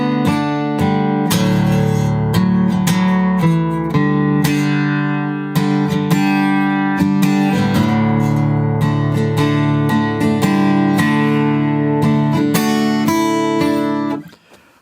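Acoustic guitar strums through the second verse line of a song, a steady, full chord progression with clear rhythmic strokes for about fourteen seconds before ringing out, with no voices.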